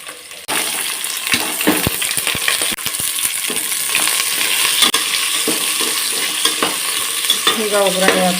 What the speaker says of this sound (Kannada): ಈಗ ಒಗ್ಗರಣೆ ಹಾಕೋತಾ ಇದ್ದೀನಿ